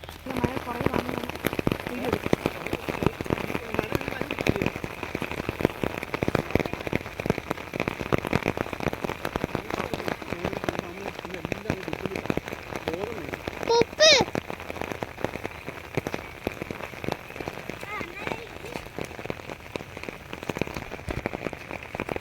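Rain falls steadily on a surface during the rice harvest season in a Kerala village, a dense patter throughout, with faint voices and brief clatter in the background.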